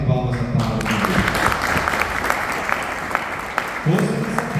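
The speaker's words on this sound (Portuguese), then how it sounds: "Uma grande salva de palmas à palavra de Deus." A church congregation applauds after a scripture reading at a Portuguese-language service, dense steady clapping filling the room, with a voice speaking over the start and again near the end.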